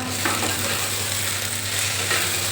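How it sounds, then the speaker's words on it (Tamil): Broad beans and brinjal sauté in hot oil for a kara kuzhambu, giving a steady, even sizzle that runs close and constant throughout with no voices. "அவரைக்காய் வந்து இந்த எண்ணெயிலே நல்லா வதங்கணும்"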